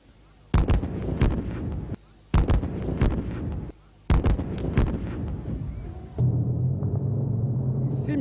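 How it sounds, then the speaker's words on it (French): Live military artillery and bazooka fire on a training range, three loud, sharp blasts spaced a few seconds apart, each with a rumbling tail, followed by a steady low drone. "Et là, ce sont des tirs réels et ça va faire beaucoup de bruit."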